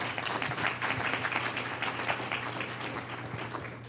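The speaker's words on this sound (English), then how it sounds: "I wanted to give you a round of applause." Applause from the audience at a board of health meeting, close and fairly loud, with individual claps audible in a steady, even patter that lasts throughout.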